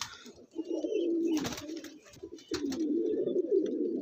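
Pigeons, including an Andhra pigeon with purple feet, coo in a steady low, throaty burble that runs almost without a break, loud and close, with faint chirps and brief rustling mixed in.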